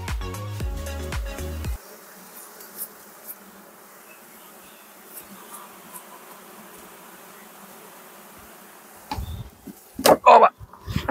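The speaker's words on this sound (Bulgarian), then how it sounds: "тук остана една камара пчели" Swarm of honey bees buzzing in a continuous, moderate drone around an open hive, opening with a burst of music and ending with a few loud handling knocks and rustles nearby.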